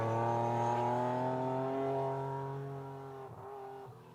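A BMW rally car drives on slippery clay, its engine holding a steady strong drone that slowly fades and then falls away, with brief rough bursts near the end.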